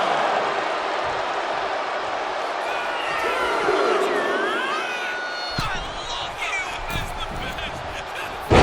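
Crowd noise from a wrestling arena in the WWE 2K25 video game: a steady roar and cheering swell under game sounds, with a sharp slam or impact near the end.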